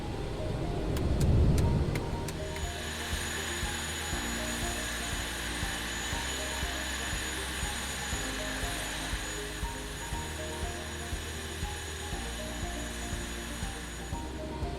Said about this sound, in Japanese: 途中でスラストリバーサーの動作テストを行っておきましょう。